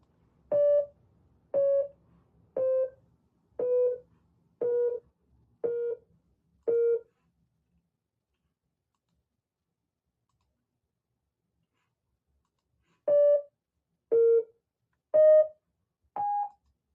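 Short electronic tones turned out from image pixel brightness sound as evenly spaced single beeps, seven in a row, then a pause and four more at slightly shifting pitches, clean and alone.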